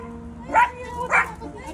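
Two short, high yips from small dogs, close and clear, one right after the other, over a low background hum.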